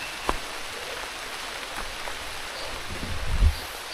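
Steady, faint rain falls on a forest path, a soft continuous patter with a couple of brief thumps and a slightly louder patch near the end; no one speaks.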